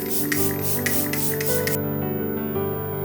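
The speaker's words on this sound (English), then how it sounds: "Setting spray." A series of short, quick hissing sprays of makeup setting spray in a rhythmic burst, close by, followed by a quieter steady background hum.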